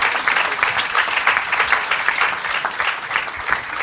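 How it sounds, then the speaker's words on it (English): Steady applause from a forum audience, a dense wash of many hands clapping at even volume throughout. "Let's give them another well-deserved round of applause."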